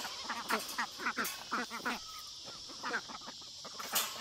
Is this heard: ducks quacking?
yes